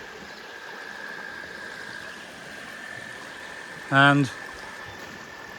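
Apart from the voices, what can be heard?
small tributary stream flowing through a pipe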